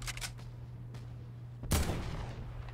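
Gunfire in the video game Fortnite: faint shots at the start, then a single loud, sharp shot with a short decay, no voices.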